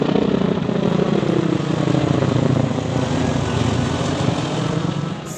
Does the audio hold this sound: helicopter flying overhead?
yes